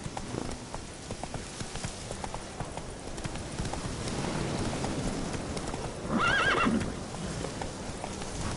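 A horse in a PS4 video game gallops with a rapid, steady clip-clop of hooves under ambient game sound, and partway through a loud close neigh rises over it.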